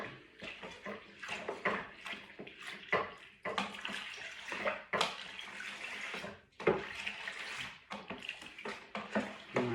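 Homebrew stout being stirred in a pot with a stirring stick: repeated watery sloshes and swirls rise and fall in uneven surges, close and moderately loud, with no talking.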